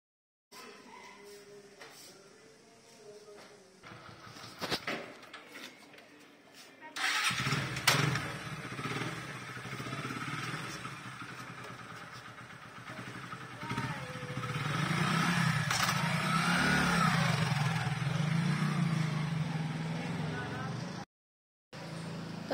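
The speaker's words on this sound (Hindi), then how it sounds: "कन्हैया जाएगा इनको छोड़ने के लिए बाइक पर" A motorcycle engine cranks and catches after a quiet stretch of faint speech, then idles and revs in a steady, growing rumble before cutting off briefly near the end.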